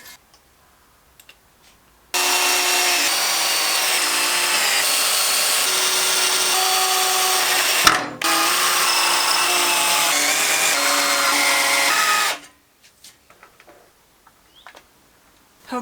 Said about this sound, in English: So time to pre-drill these holes